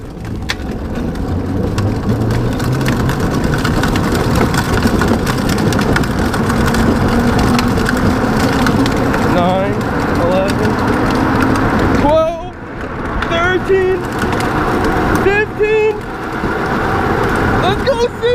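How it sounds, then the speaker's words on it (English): Modified electric Power Wheels go-kart speeding along, a loud droning motor with rattling and clattering close by, with voices shouting over it toward the end. "We're shooting for 20 miles an hour, and let's see if we got it."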